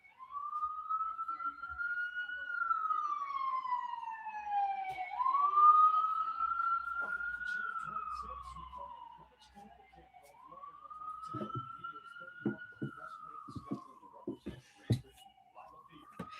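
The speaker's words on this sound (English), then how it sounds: "There's some sirens go by to start the break." A wailing emergency siren passes outside, rising and falling in long sweeping cycles and fading somewhat, heard indoors with faint clicks and rustles.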